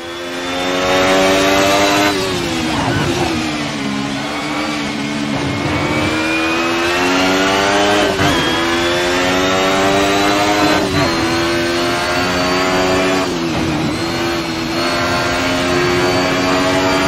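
Simulated Alfa Romeo 155 TI V6 touring car from the 1990s revving hard in Assetto Corsa, its loud, high-pitched engine wail climbing through repeated gear changes with dips and rises, sustained throughout without talk.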